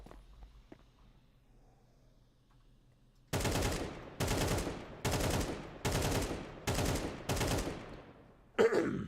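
AK rifle fire in a competitive video game: after quiet, six loud, rapid bursts of automatic gunfire follow one another at steady intervals, each about half a second long, with a sharp clack at the end.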